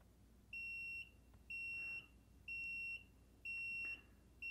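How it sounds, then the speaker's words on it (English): A vehicle reverse beeper sounds during an electronic throttle control test, giving five evenly spaced high electronic beeps, each about half a second long, clear but moderately quiet over faint background noise. "you're going to hear the reverse beeper going on here."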